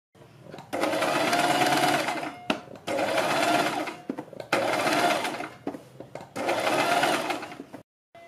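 A sewing machine stitches along buckram on doubled fabric for a neck design, running loud and close in four steady bursts of about one and a half seconds each, with short pauses between.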